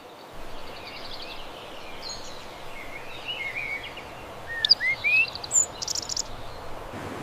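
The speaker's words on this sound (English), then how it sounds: "It's a bird." Several short, high bird chirps stand out near the end, brief bright calls rising above a steady background hiss.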